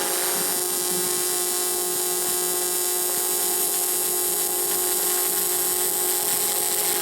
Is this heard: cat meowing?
no